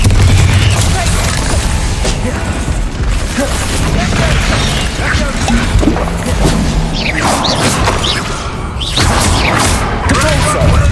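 Confringo fire-spell blasts in Hogwarts Legacy: repeated booming, crashing bursts of magic over continuous game noise, with a voice present throughout.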